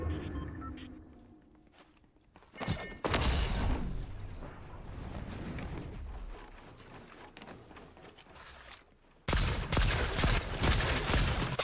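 Rapid rifle gunfire from a ranked match in a shooter video game, coming in dense loud bursts with a pause between them and a final sustained volley, mixed with game effects.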